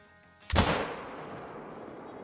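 A single loud, close .338 Magnum rifle shot fired while hunting in Call of the Wild, with a sharp crack followed by a long, rolling echo that fades slowly over quiet background ambience.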